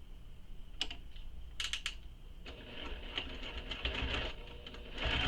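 A sewing machine topstitches a handbag seam allowance in faint, quick whirring runs, with short mechanical clicks at first and then steadier, longer stitching toward the end.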